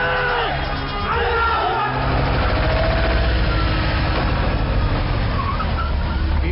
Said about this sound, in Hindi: पीछे लो ट्रैक्टर।